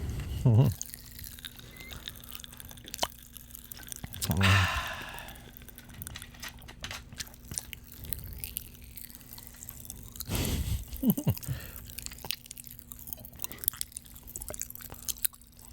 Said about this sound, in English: Don't be afraid to chew it too a little bit.